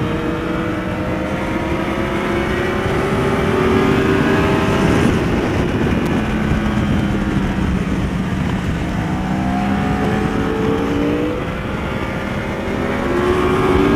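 A Yamaha R1 sport motorcycle engine revs hard while riding in hot desert conditions, giving a loud, continuous roar whose pitch sweeps up and down with the throttle and wind rush behind it.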